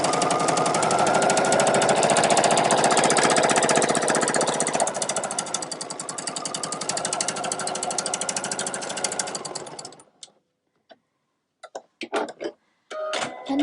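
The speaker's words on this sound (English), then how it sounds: "sew down the other side to close the pocket." A sewing machine stitches along the pocket of a tote bag, a fast, steady mechanical chatter running close and loud for about ten seconds, then stopping into short bursts and clicks.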